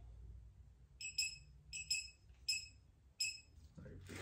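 A digital torque wrench gives a series of short, high electronic beeps, mostly in quick pairs, while tightening bolts on a twin-turbo LS engine, over a quiet background, followed by a brief noisy clunk.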